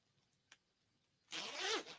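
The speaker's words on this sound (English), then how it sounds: "Zips right up." A jacket zipper is pulled up in one smooth, close rasping stroke lasting about half a second, after a single faint tick in near silence.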